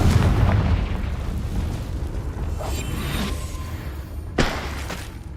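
Confringo blasting-curse explosions in a Harry Potter video game: loud, rumbling booms roll on continuously, and a sharper burst cracks out near the end.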